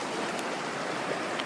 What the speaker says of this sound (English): I am shocked by this river.